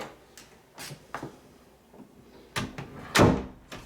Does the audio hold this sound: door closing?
yes